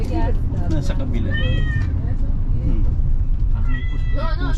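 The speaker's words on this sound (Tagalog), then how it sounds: "Ah, may pusa." A cat meows several times in short, rising calls near Grand Cayman, heard among people chatting and background noise.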